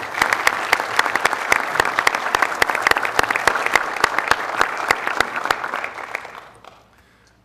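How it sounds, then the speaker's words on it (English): Round of applause from the audience at a county board of commissioners meeting, many sharp claps in a dense, loud burst that holds steady for several seconds, then thins out and fades to near silence. "Let's give them a round of applause."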